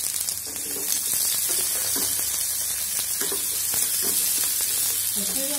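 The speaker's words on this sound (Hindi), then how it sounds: "अब इसमें हम आलू डाल देंगे।" Potatoes frying in hot oil in a pan make a loud, constant crackling sizzle, close up, with a few soft stirring clicks and no speech.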